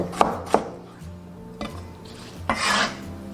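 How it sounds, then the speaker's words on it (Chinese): A knife chops scallions and ginger on a cutting board, a few sharp isolated knocks spaced irregularly, followed by a scraping rub, close and quiet with no talk. "切些葱姜，等下腌制。"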